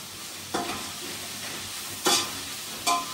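Onion frying in a pan for biryani: a soft steady sizzle with a few sharp louder bursts of scraping and stirring spaced apart, fairly close, with no talking.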